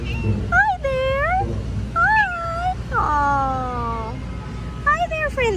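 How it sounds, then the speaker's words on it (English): A friendly cat at the Ayala Triangle Garden meows several times in clear, rising and falling calls, with a longer drawn-out meow in the middle, close by over a soft outdoor background. "And there's a beautiful kitty."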